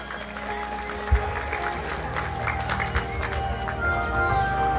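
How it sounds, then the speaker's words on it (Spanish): Applause for the godparents at a large religious wedding, scattered clapping from guests over a hum of room noise and background music, with a sharp thump early on. "Fuerte las palmas para ellos."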